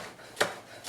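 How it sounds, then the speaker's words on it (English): A knife cuts scallions (green onions) on the bias against a board, two distinct crisp chops close up, spaced about half a second apart over a quiet background. "And you can cut those on the bias."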